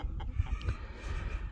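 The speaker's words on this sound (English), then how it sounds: "you hear the mama chicken?" Mother hen among a large flock of free-ranging chickens near an old tobacco barn, faint low clucking mixed into soft outdoor background noise, no one speaking.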